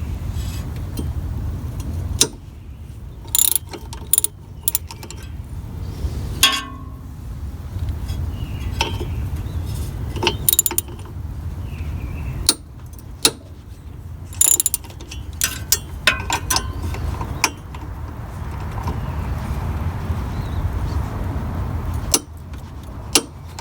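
Wrench ratcheting and clicking on the 13 mm bolts of a Jeep Cherokee XJ water pump pulley, with bursts of sharp metallic clicks and clanks between quieter stretches, close up and without talk.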